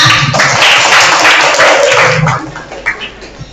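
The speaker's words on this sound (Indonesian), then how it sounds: "silakan maju untuk tepuk tangan dulu semua" Clapping from a group in a drama class on mise-en-scène breaks out loudly and close, a dense patter that holds steady for about two seconds before thinning into a few scattered claps.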